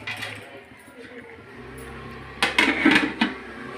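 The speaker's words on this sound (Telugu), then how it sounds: "చికెన్ ముక్కలు బాగా పట్టేటట్టు ముక్కలను కలుపుకోవాలి" Chicken pieces stirred in a cooking pan, a few close metallic scrapes and clinks of a spoon against the pan toward the end, over a low steady background with brief faint voice at the start.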